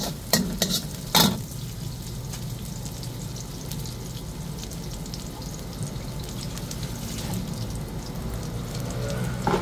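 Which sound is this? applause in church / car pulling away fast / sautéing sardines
sautéing sardines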